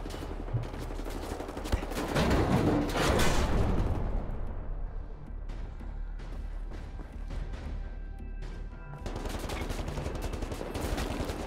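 Rapid gunfire from Wolfenstein: The New Order bursts loudly and densely, with a heavy crashing peak early on, then continues as a steady, slightly quieter barrage of shots to the end.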